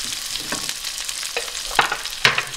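Potatoes laid flat in a hot pan crackle and sizzle steadily up close, broken by several louder crisp bursts and scraping clicks as they settle and fry, with no talk over the sound.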